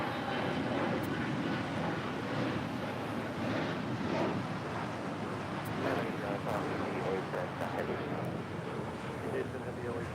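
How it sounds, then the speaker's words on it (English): An American Airlines Boeing 787-8 Dreamliner taxis and turns at LAX, giving a steady, distant broadband jet rumble mixed with wind buffeting the microphone. "American Airlines Flight 1959 heading to Miami in the 787-8 Dreamliner,"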